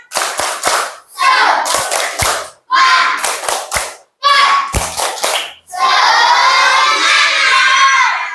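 Schoolchildren in a classroom doing the tepuk semangat clapping chant, loud rhythmic clap patterns punctuated by sharp thumps and group chanting in short bursts, ending in a sustained cheer.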